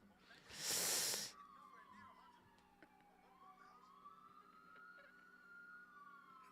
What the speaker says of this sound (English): Is that the ambulance?